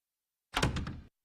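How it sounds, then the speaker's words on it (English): A door slams in a Family Guy cartoon scene, one short heavy thunk with a brief rattling tail, alone after a moment of silence. "Cleveland, slam the door."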